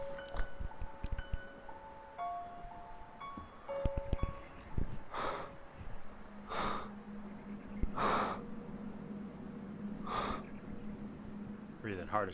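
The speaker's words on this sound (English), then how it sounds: "Breathing hard as shit." Heavy, labored breathing from someone walking through a dark abandoned building, with several loud breathy gasps spaced over steady background hiss and scattered tones, and some voices in between.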